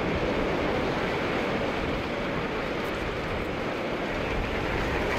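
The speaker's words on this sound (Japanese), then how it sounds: "港の境を越えて水が市内の方に入り込んできています" Tsunami water pouring over the harbor floodgate into Kamaishi city during the 2011 Japan disaster, a steady loud broadband roar of rushing water and wind with no breaks across the whole stretch.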